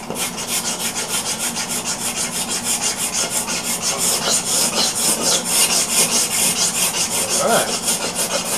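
A wood scraper is sharpened with a steady, rhythmic rasping rub, stroke after stroke close to the ear, lasting several seconds with nothing else heard.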